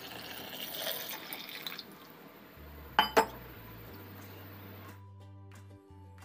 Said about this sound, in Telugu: వాటర్ పోసుకొని